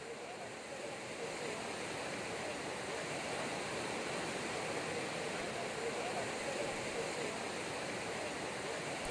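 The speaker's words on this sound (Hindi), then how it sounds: "पानी का बहाव देखिए" Rushing floodwater from rivers swollen by heavy rain pours in a continuous, loud broadband roar, steady and unbroken throughout, with no distinct voices.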